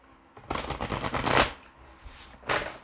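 Tarot cards are riffled in a quick shuffle, a close crisp fluttering burst, followed by a shorter second riffle.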